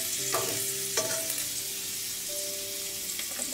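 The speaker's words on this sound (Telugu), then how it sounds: "కొంచెం పచ్చివాసన పోయి కమ్మగా వాసన వచ్చేంత వరకు ఫ్రై చేసుకోండి." Something frying and being stirred in butter in a pan, an even close sizzle broken by a few scraping stirs, with no talking.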